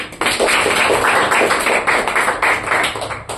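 A congregation at a Friday worship service clapping hands together, a dense, fast rhythmic patter of many palms, loud and close, continuing steadily for a few seconds.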